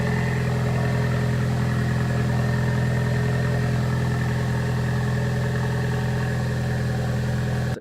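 A damaged 2017 Ford Focus RS engine idles steadily in a garage, a loud, constant low hum that runs unbroken for several seconds before cutting off abruptly.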